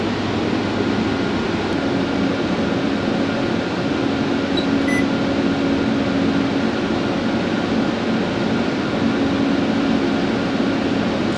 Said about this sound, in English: the aircon is on once more